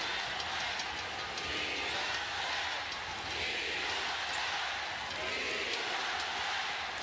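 A basketball arena crowd at a Philippines versus Hong Kong FIBA Asia Cup qualifier chants for Dwight Ramos, heard as a steady, distant, roaring wash of voices that swells gently without clear breaks.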